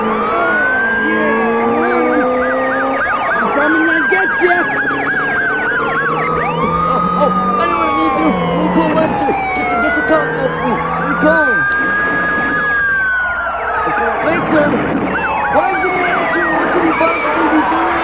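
Several wailing police sirens sweep up and down together in a parody GTA V car chase, loud and continuous with overlapping yelps, while excited voices shout over them.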